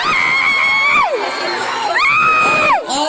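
A crowd at a lively gay pageant intro shouts and cheers in rising, swooping whoops, loud and close, with children's shrill voices mixed in across a continuous roar.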